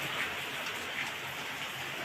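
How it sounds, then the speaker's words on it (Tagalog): Heavy rain pours steadily during the rainy season near a street food fried chicken stall, a dense continuous hiss with no talking. "Napaka-kapal ng ulap at malakas ang buhos ng ulan."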